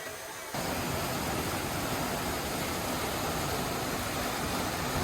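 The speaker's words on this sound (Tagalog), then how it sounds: "ang Antong Falls ng Sison, Pangasinan" Antong Falls in Sison, Pangasinan roars as a steady, dense broadband rush of falling water, close and continuous after a brief quieter opening moment, with no voices.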